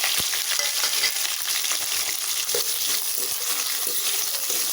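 Masala, curry leaves and small shallots fry in hot oil for a jackfruit seed curry, giving a dense, continuous sizzle with light stirring clicks throughout and no talk.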